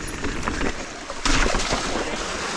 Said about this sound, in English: Wow, nice waterfall here.